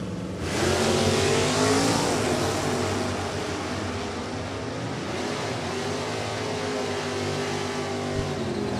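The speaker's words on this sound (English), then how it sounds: "That's a 350 powered Corvette." Drag racing at Maple Grove Raceway with a 350-powered Corvette, a loud, sustained engine roar that rises sharply at launch, then holds a dense growl with a faint pitch sweep as it pulls away.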